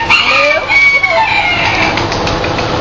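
A pet bird calls loudly and close by, a few rising, crowing-like whistled notes giving way to a steadier raspy call, with no talk over it.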